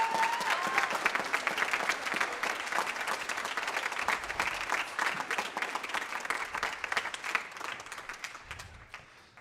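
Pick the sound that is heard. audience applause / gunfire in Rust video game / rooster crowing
audience applause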